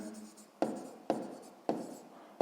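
A pen writes out a sixth-grade maths solution in three quick, sharp scratching strokes, close and fairly quiet, with a softer scrape before the first.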